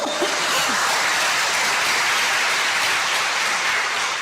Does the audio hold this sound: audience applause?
yes